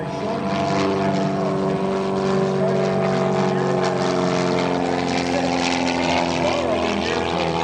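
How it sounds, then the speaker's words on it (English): A propeller airplane performing at the 2024 Westmoreland County Airshow, droning loudly and steadily, its engine tone shifting slightly as it performs, with a voice talking over it. "the plane you see performing today"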